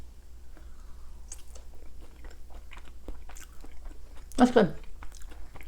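Someone bites into and chews French fries from a Peruvian lomo saltado close to the microphone, with soft crunching and one louder bite near the end, mixed in with brief talk.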